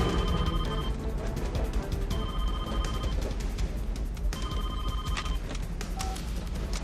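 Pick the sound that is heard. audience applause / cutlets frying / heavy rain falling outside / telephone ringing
telephone ringing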